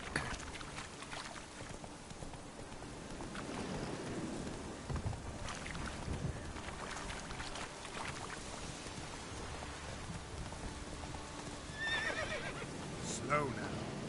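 Roach, the horse in The Witcher video game, whinnies and clip-clops at a steady walking pace over rain and distant thunder. Other game sounds fill the background, and a voice speaks over parts of it.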